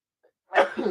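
A single short sneeze bursts out after a near-silent moment, fairly close and moderately loud, trailing off quickly.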